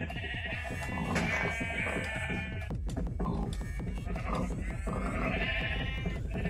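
Sheep on a farm bleat over and over, loud and close, their overlapping calls forming a steady, busy chorus with no pause.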